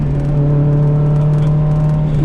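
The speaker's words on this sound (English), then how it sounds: "This car definitely proves that 4 cylinders can sound good" An 800 WHP Mitsubishi Evo 8 four-cylinder engine drones steadily from inside the moving car, a loud, even, buzzy tone with a strong low hum and no voices.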